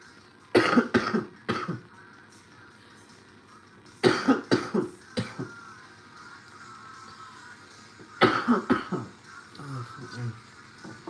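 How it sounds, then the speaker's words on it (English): Three bursts of harsh, dry coughing after vaping, each a rapid cluster of hacks, close to the microphone with brief quiet pauses between fits. "That dry vape cough is awful."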